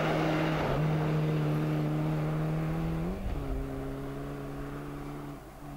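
A rally car on a stage in the Peurunka Rally 2015 holds a loud, steady engine drone at a constant pitch, then rises sharply at about three seconds as it accelerates or shifts, before settling into a slightly fading roar.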